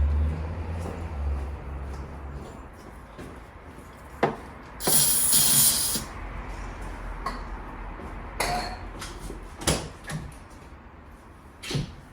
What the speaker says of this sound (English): I might just have a go just spraying some easy start up here